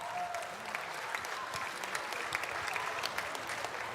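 Steady, full-bodied applause from an audience at the Sydney Royal Dog Show, hands clapping continuously and evenly for the whole stretch with no voices above it.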